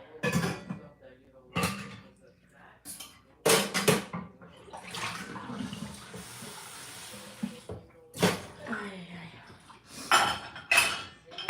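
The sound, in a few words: dishes being loaded into a dishwasher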